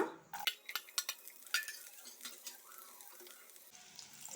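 Six chopped garlic cloves fry with spices in a pan for an Indian-style chicken stew, a soft sizzle under a quick run of metal spoon clanks and stirring scrapes early on, then a quieter steady fry.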